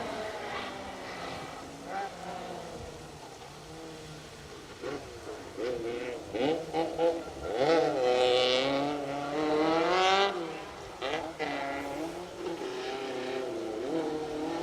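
A Vauxhall Astra rally car engine revs hard and climbs through gears nearby on a 2025 RAC Rally stage, rising and falling in pitch with bursts of acceleration and tyre noise.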